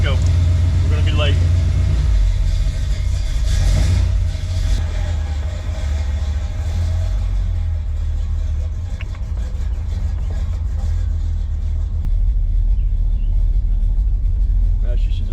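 A 1981 Corvette engine rumbles steadily during a brake test drive, with loud, continuous low road and engine noise and someone talking over it.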